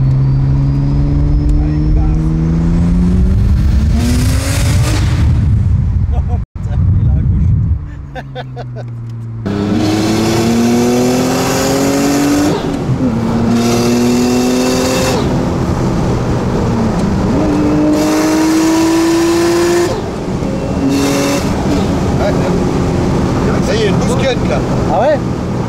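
An Audi S4 B5 converted to a single turbo revs hard up close, its loud engine note climbing and dropping through repeated pulls with a short break, while people talk over it.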